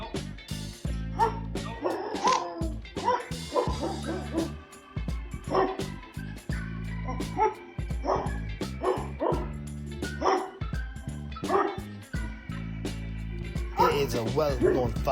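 A Cane Corso guard dog barks repeatedly at intruders on a property, deep, loud barks in irregular bursts mixed with yips and whimpers, with a voice speaking underneath.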